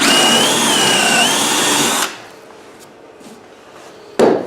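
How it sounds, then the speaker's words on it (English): A power drill with a 3/8 bit bores a hole in glued and clamped pine, whining loudly at close range for about two seconds, then cuts out, leaving faint shuffling and a brief bump at the end. "I'll go ahead and bore a hole."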